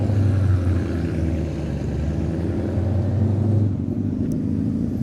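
A BMW M8 Competition's engine rumbles at a car meet, a steady, loud, low drone that holds for several seconds before easing slightly near the end.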